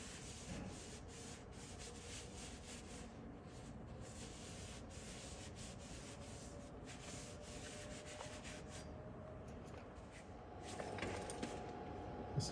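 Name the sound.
cleaning the axle spindle of a 1950s GM 4104 bus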